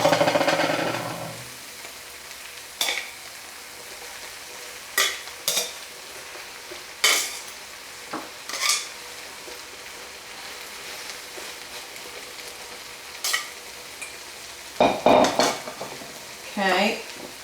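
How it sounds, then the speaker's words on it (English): Beef goes back into a pot with cooked flour and gets stirred, giving a soft sizzle under scattered clinks and scrapes of a utensil against the pot at irregular intervals. "that flour is nicely cooked, so let's go ahead and add our beef back in"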